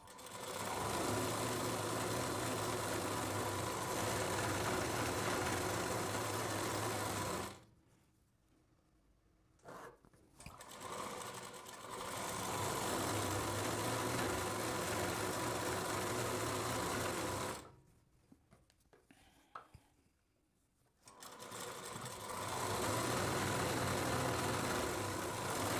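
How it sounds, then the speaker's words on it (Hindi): A sewing machine stitches the lining of a lehenga in long steady bursts of close, loud whirring, twice pausing briefly for a few soft handling sounds before running again. "यहाँ पे सिलाई लगा देनी है।"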